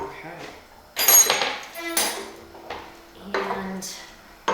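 Shredded chicken goes into a pot of white chicken chili amid close, loud clanks and scrapes of utensils on cookware, several separate metallic knocks and rattles, with a voice talking briefly.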